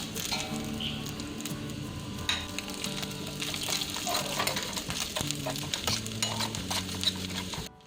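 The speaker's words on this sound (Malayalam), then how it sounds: "ഒരു സ്പൂൺ നെയ്യ് ഒഴിച്ച് ഈ നാളികേരക്കൊത്ത് അതിലേക്കിട്ട് വറുത്തെടുക്കാം" Steady sizzling of coconut pieces frying in hot ghee, with occasional scraping and clinks of a utensil stirring in the pan, while quiet music plays underneath.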